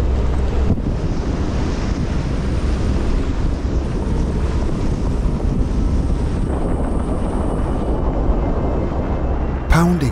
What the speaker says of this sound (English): Pounding through the waves, my full engine